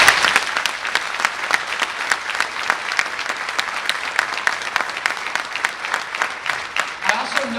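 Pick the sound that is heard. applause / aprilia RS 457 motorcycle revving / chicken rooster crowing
applause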